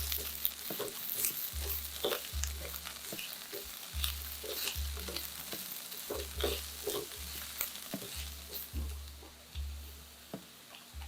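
Garlic and green onion sautéing with paprika in a pan, a steady close sizzle broken by repeated stirring scrapes and taps, with low rhythmic thumps beneath.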